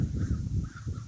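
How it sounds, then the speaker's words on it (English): Crows gathering at a cemetery in Ann Arbor during an October roost, with a few caws rising over steady low background rumble, fairly distant and faint. "So here in Ann Arbor Cemetery, hundreds and hundreds of crows"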